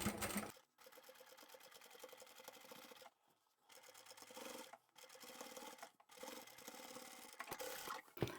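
A sewing machine stitches a seam through vinyl and scrap fabric for an upholstery bag, running in steady buzzing bursts of one to two seconds separated by brief pauses, close and moderately loud.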